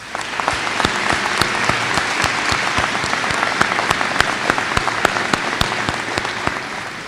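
At a Terra State Community College commencement in 2019, a large audience applauds the graduates, a loud, sustained roar of clapping with distinct sharp claps from nearby hands punctuating the dense wash.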